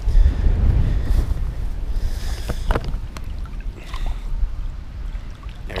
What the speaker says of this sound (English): it's so windy, it's insane